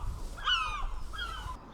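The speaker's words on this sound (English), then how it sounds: "the seagulls will sing us out" Seagulls call outdoors in two harsh, raspy cries, the first longer and stronger, the second shorter and fainter, over a low steady background rumble.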